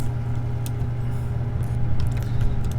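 Spaceship engine powering up in Star Citizen, a loud steady low drone with a tonal hum and faint mechanical ticks, holding level throughout and then cutting off abruptly.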